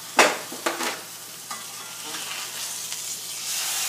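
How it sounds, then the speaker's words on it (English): Beef pot roast browning in a hot pan gives a steady sizzle, opening with a couple of sharp sputters and then settling into a continuous, moderately loud fry with no voices. "So we brown the one side"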